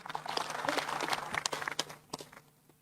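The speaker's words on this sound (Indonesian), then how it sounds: "tepuk tangan" Audience applause at a regional coordination meeting hall, a dense crowd clatter of clapping that rises, holds for a couple of seconds and then thins out toward the end.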